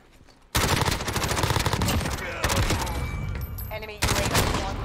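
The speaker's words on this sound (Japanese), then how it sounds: "銃声も誰の銃声なのか分かんないしね" Gunfire in the Call of Duty: Modern Warfare video game, with loud bursts of rapid shots and single cracks filling most of the clip after a quiet start, mixed with other game sounds.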